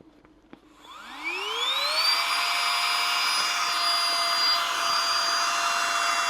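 A small rechargeable vacuum pump whirs up from a click, rising in pitch over a second, then holds a steady, loud high whine with a thin tonal hum as it draws air out of a compression backpack.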